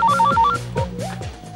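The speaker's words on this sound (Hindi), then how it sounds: "लो सुनो, रिंग बज रही है, रिंग बज रही है।" A telephone rings through a speakerphone, a short burst of electronic ringback tones over a dramatic film score.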